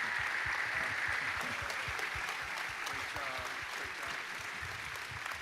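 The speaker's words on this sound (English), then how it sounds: "And could we have an applause?" Crowd applause at the Heritage Commitment Ceremony follows a reading of names, sustained and fairly faint in a roomy space, with low thumps and a few scattered voices underneath.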